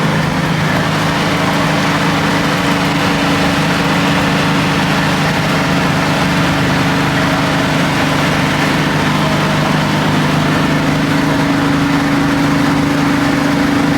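A street NASCAR hot rod engine drones steadily at 3,000 RPM at highway speed, a loud, continuous low hum with road and wind noise filling the cabin throughout.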